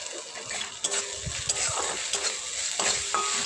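Ginger paste goes into hot oil with small puti fish for a sour fish dish, giving a soft steady sizzle broken by stirring scrapes and taps of a utensil against the pan.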